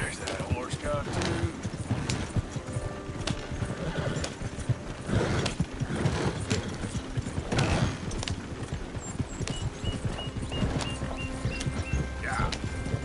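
A horse in a PS4 video game clip-clops steadily along at close range, its hooves rhythmic and prominent, with repeated neighs and whinnies breaking through while a player talks throughout.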